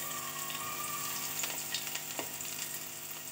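Garlic sizzling and frying in hot oil in a home kitchen, a steady close crackle with occasional stirring clinks, no talking.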